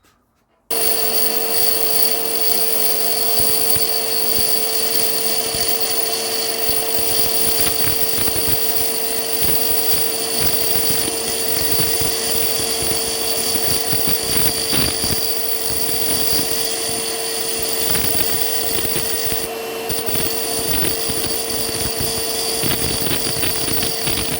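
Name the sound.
grinding wheel being dressed with diamond dresser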